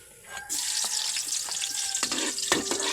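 Garlic frying in a pan for a vegetable dish, a steady broadband sizzle that swells after the first half second and carries on, with a few scraping stir strokes cutting through.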